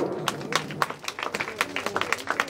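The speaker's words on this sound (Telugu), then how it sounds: "అందరూ ఒకసారి గట్టిగా చప్పట్లు." Scattered hand claps from an audience at a drama festival in Bhimaram, Hanamkonda: sparse, uneven claps close by, rising in density, with a voice murmuring underneath.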